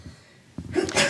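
A single close sneeze bursts out after a quick inhaled breath, sharp and loud with a breathy, hissing release.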